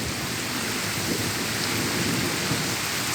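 Heavy steady rain with a low rumble of thunder beneath it, the downpour loud and constant throughout with no voices.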